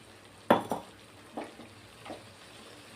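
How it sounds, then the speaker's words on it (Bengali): Fried cauliflower is tipped into a pan and stirred for a paneer and cauliflower vegetarian curry, with a few sharp spoon clanks and scrapes against the metal over a faint background sizzle. "এখন ভেজে রাখা ফুলকপিগুলি দিয়ে দিব"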